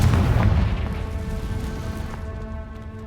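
A Confringo blasting curse goes off in Hogwarts Legacy, a loud booming explosion right at the start that rolls on and slowly fades over a few seconds, with no talking.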